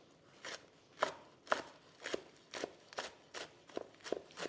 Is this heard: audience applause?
no